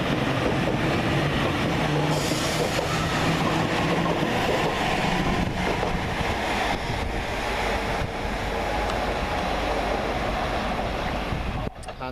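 A Class 397 electric train pulls out of Motherwell station, giving a loud, continuous, broadband rumble and rush close by for the whole stretch, with no speech.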